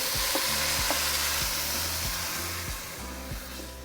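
Fideo noodles frying in a pan for soup, a loud steady sizzle with a soft rhythmic scraping of stirring underneath and no voices.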